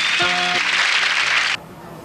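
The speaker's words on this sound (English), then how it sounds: "Would you applaud for him, please?" An audience applauding a magician at a magic convention, a burst of dense clapping that cuts off abruptly, with a brief tonal note at the start.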